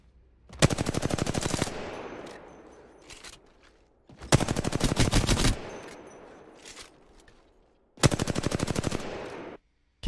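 Apex Legends gunfire: three loud bursts of rapid automatic fire, each roughly a second long, separated by short pauses with faint game ambience.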